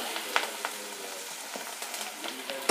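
Tomato masala with coriander leaves sautés in a pan for a broad beans masala, making a close, steady sizzle broken by light stirring clicks and scrapes.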